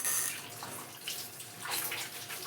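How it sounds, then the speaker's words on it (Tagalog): Rags used for a kitchen sink are rinsed under a running tap, giving a soft, steady stream of water with faint splashing and sloshing, quiet and close, with no voices. "Lalabang muna ako ng basahan. Basahan ng lababo."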